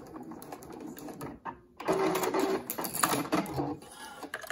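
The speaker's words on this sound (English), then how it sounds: "I'm going to backstitch and then send it through." A sewing machine stitches back and forth through a multi-layered cotton face mask in short rapid bursts, with brief pauses between runs of mechanical chatter.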